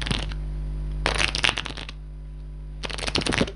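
A small deck of playing cards is flicked in two quick riffling bursts, crisp close fluttering snaps over a low steady background hum.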